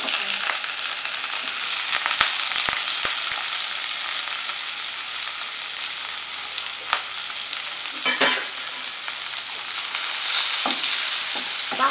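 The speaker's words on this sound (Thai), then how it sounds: "เดี๋ยวเราผัดกุ้งให้สุกก่อนนะคะ" Shrimp stir-fry in a pan with garlic and chili over medium heat, a constant bright sizzle broken by sharp clacks and scrapes of a spatula against the pan, close and with no talking.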